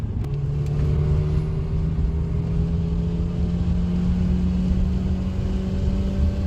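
A Renault Mégane Estate with a 1.3 turbo engine and 160 hp accelerates hard, its engine drone rising steadily in pitch under a constant loud road roar heard from inside the car.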